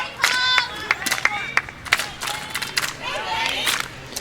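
A softball team in the dugout claps together in a steady rhythm and cheers for a batter at home plate, sharp hand claps recurring about every third of a second under excited shouting voices.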